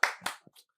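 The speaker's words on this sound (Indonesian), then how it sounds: "Tepuk tangan lagi dong" Faint audience claps at the Ruang Bersuara live event in Tangerang Selatan: a couple of soft hand-claps trailing off into quiet, with no talk over them.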